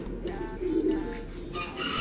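A pet pigeon coos softly in a low, murmuring rhythm, close by, with a faint background hiss and no voices.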